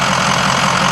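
A vehicle engine idling close by, a loud, steady mid-range drone with an even rumble and no variation across the short stretch.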